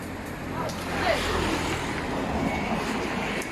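A boat engine runs with a steady low drone under wind and water noise, fairly constant and moderately loud across the whole stretch.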